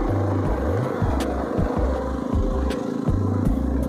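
Motorcycle engine hums steadily during a ride to a namghar, with uneven throttle swells and a low rumble close by, no voices over it.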